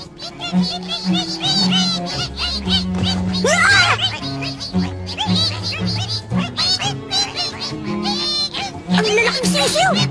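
In a Hunter x Hunter anime scene dubbed in Tagalog, giant chicks call with shrill, quacking cheeps that repeat in quick bursts over a sustained musical tone, mixed with animated voices.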